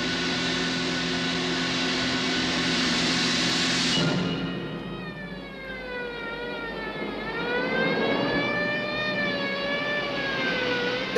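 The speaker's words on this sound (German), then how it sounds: "Krankenwagen!" In a 1967 London gangster film scene, a broad rushing rumble cuts off. A loud ambulance siren then wails alone, rising and falling in long sweeps.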